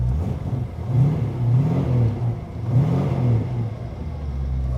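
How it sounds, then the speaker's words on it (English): A 1934 Plymouth car engine with a stainless steel exhaust revs up and down twice in steady swells, loud and close, with no voices. "I'll give it a little rev."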